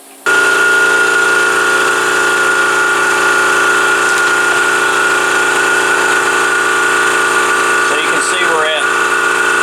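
A Kobalt air compressor runs loud and steady in a shop, a constant mechanical drone with a sustained hum, while someone talks over it.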